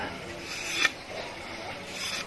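Thin bamboo strips are hand-scraped for weaving a traditional Isan sticky rice basket. Soft, close rasping strokes rub along the wood, with one sharper scrape standing out midway.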